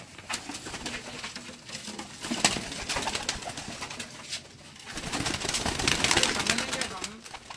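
Pigeons coo and flutter nearby amid a noisy, rustling background, with voices occasionally in the mix, at a rooftop pigeon loft.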